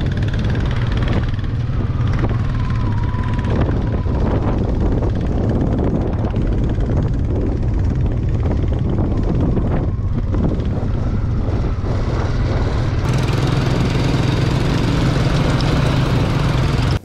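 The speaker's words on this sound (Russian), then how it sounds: "Доливаем бензин в баки своих железных коней, запускаем двигатели и едем в Тундру Академии." Petrol-powered vehicles drive across Arctic tundra on Wrangel Island, their engines droning loud and close in a continuous rough rumble, with a shift in pitch and intensity near the end.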